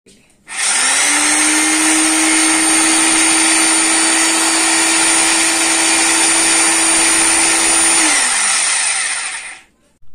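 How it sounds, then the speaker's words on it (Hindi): A Wondercut WCGP-2-26 rotary hammer drill, heavy and trigger-operated, whirring up loudly close by, holding a steady high-pitched whine for several seconds, then winding down as the trigger is released. "ये जो है ड्रिल मशीन काफ़ी वज़नदार है तो मैं ट्रिगर दबाऊंगा तो ये घूमने लगेगा"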